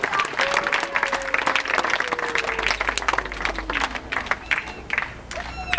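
An audience claps in sustained applause, dense and fairly loud, with a few voices and whistles faintly mixed in, after a bird-of-prey fishing display at an eagle castle show.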